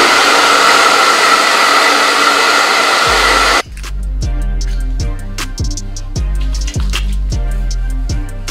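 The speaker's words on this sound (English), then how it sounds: "And then I'm gonna take my blow dryer" Blow dryer drying type 4 hair blasts as a loud, close, steady whoosh for a few seconds, then cuts off abruptly and rhythmic music with a thumping beat takes over.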